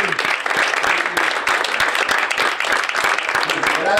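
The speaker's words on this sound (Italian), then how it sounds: "Un applauso." Audience applause at a Sunday gathering in Milan, a thick, loud wash of many hands clapping close by, sustained evenly for the full stretch with no voices rising above it.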